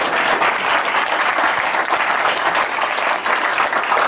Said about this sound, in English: They should be applauded for their participation.